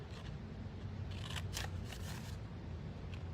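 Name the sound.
scissors cutting paper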